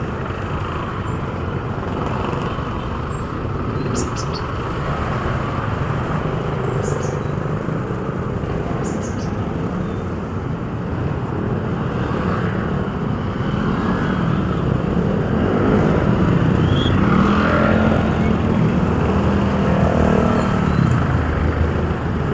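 Steady road traffic hum with passing cars and motorcycles, continuous and moderately loud throughout, growing a bit louder near the end, with no talk.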